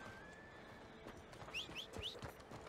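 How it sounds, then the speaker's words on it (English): A horse in Red Dead Redemption 2 whinnies in a few rising, high calls while hooves clip-clop beneath, moderately close over a soft background of game ambience. "Horsey, come to me. I don't want to lose track of you."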